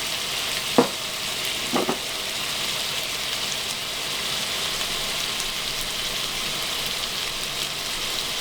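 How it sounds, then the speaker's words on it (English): Beef sizzling in a hot tagine, a continuous close frying hiss with a couple of sharp stirring scrapes early on, over the steady whir of kitchen extractor fans. "Once it's hot, then put your meat in. And just stir it up."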